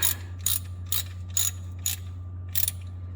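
A ratchet tightening an aluminum nut on a Jeep Cherokee neutral safety switch clicks in six evenly spaced bursts over a low steady hum, close and fairly quiet.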